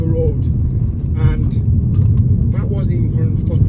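A Ford Focus RS Mk3 being driven moderately through a bend gives a steady, throaty engine rumble, close and continuous, with someone talking over it.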